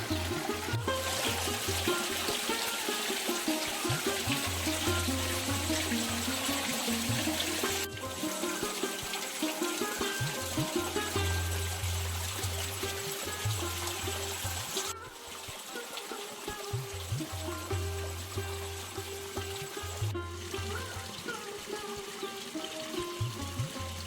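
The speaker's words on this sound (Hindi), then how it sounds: "यहाँ पहाड़ों में से पानी निकलना और इसी को गुप्त गंगा का नाम दिया गया है।" Water flows out of the mountains at Gupt Ganga in a steady, close rushing and splashing stream that runs continuously with only small shifts in intensity, with no voices.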